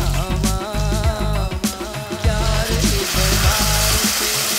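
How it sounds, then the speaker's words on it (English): Ginger julienne and green chili frying in a hot pan, a steady loud sizzle with bursts of crackle and occasional stirring clatter throughout, no talking. "Fry the ginger until light golden and now add the tomato"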